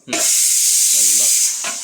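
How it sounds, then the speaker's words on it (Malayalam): Rice frying in a pan for biryani gives a loud, close, continuous sizzle that starts abruptly and holds steady, with a faint voice murmuring briefly underneath. "അപ്പോൾ അരി നമ്മൾ ഇതിലിട്ട് വറുക്കണം"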